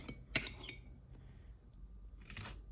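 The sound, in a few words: knife or spoon scooping mustard and mayonnaise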